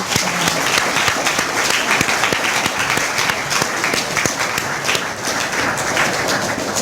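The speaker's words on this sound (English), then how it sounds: "We give them all a round of applause for great." An audience at a research day event gives sustained, dense applause, many hands clapping steadily and loudly throughout without pause.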